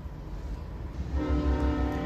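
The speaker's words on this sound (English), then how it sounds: "Now trains going by." Across the road, a passing train sounds a sustained horn over a low rumble of rolling rail cars, moderately loud and steady.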